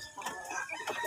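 Chickens cluck busily while being fed, several close, overlapping calls in a short, lively burst.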